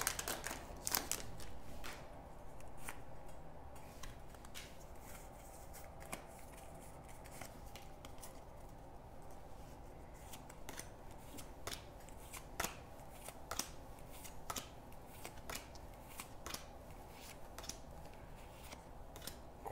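Scissors snip through a Pokémon TCG Vivid Voltage booster pack wrapper amid steady crinkly foil handling, with sharp clicks and snaps scattered every second or so at a close, quiet level.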